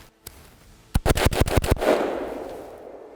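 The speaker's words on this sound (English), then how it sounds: "So last shot sequence there, I just, you know, popped off 5-6 rounds there" A Faxon Sentry AR rifle fires six rapid rounds outdoors, the loud cracks coming in a quick, slightly uneven burst after one earlier faint pop, followed by a long fading echo.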